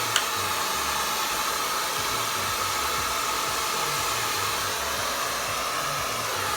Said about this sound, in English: But I'm never taking the blow dryer away from the head.